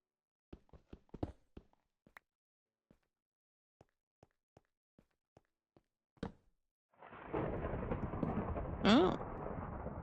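Thunderstorm in the Forever World video game: a dense roar of rain and rumbling thunder swells in after a stretch of quiet footstep-like taps, with a louder crack of thunder near the end.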